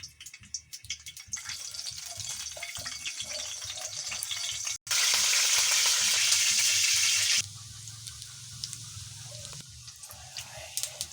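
Sliced Cardava bananas frying steadily in hot oil, swelling into a loud, dense hiss midway before settling back to a gentler crackle with occasional clinks.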